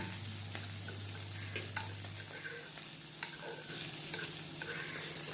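Chili, garlic and onion frying in oil in a kadhai for dill greens, a continuous close sizzle with stirring strokes and light scraping against the pan, no talk.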